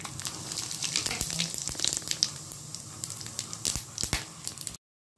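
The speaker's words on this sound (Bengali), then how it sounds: "এখন আমি তেলের মধ্যে গোটা গরম মশলা ফোড়ন দিয়ে দেবো" Whole spices — dried red chillies, cumin, cardamom, cloves and cinnamon — crackle and sizzle in hot oil in a home kitchen, a steady close fizz with sharp pops, ending abruptly.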